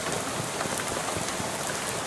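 Steady rain pours in the video game Shadows Over Loathing, a continuous even hiss of drops on surfaces with no voices.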